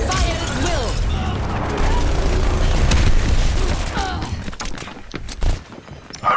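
Overwatch gunfire comes as a loud, busy barrage of shots and mechanical clatter, with game voices talking over the action and a few sharper bursts toward the end.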